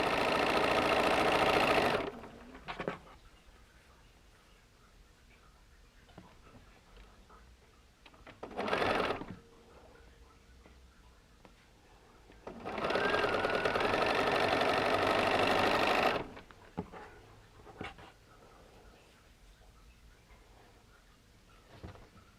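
Sewing machine stitching quilt block rectangles in two clear bursts of steady motor whir, one short and one longer, with brief quieter pauses of handling noise between them.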